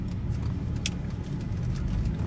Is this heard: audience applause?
no